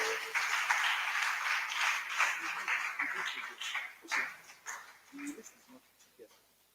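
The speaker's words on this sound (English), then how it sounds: "let's welcome him with a resounding round of applause" At a stakeholders forum, a crowd gives a round of applause to welcome the convener; the steady clapping fades out over several seconds with some voices mixed in.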